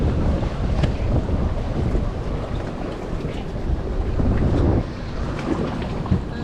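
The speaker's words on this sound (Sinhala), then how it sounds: "අර බෝට්ටුවෙන් තමයි අපි ඇදගෙන යන්නේ" A motorboat tows a sofa ride across the sea at Bentota. Loud wind buffets the microphone over a low engine rumble and splashing water, sustained throughout.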